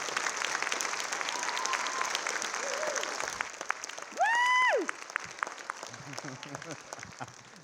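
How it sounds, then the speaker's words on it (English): Audience applauding a school orchestra concert, a steady wash of clapping with a crowd cheering, a brief whistle, and a voice speaking near the end. "how about another round of applause for these awesome kids?"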